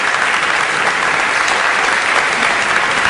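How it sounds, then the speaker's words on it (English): Steady, dense applause from a large standing audience at a lecture event, loud and continuous throughout with no talk over it. "Stand up and give the applause."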